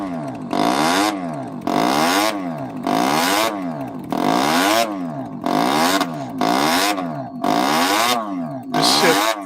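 A motorcycle engine revs repeatedly in loud, regular bursts, each rising and falling in pitch and separated by short idle gaps, close and dominant throughout.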